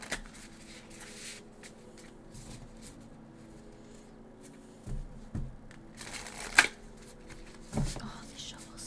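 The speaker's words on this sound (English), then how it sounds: "Oh, they shuffle so nicely" A tarot deck is shuffled in soft bursts of riffling and sliding cards, with quiet gaps between, and a hushed voice murmurs in the background.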